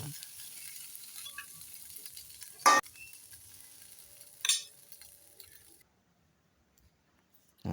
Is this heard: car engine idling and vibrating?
no